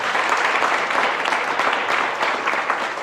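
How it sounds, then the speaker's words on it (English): Warm audience applause at a university high tea book event, even and continuous clapping from a moderate-sized crowd, heard alone. "let's give them a warm round of applause"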